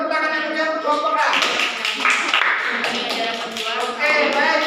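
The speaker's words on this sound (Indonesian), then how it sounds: "Oke, beri tepuk tangan yang punya kelompok A" Students in a classroom clap for group A after a physics lesson on Coulomb's law, a dense burst of applause mixed with a teacher's voice talking over it.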